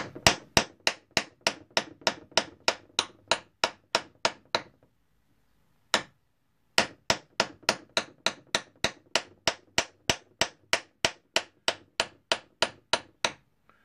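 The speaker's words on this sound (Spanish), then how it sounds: "aquí pues ya martillamos martillamos lo que podamos" Rapid, steady metallic hammer strikes on wire for a handmade ring ring out close by in two long runs separated by a brief pause, each blow sharp and evenly spaced.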